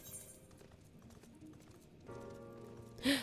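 Steady clip-clop of horse hooves at a walking rhythm, fairly close, over quiet background music, ending with a brief louder burst.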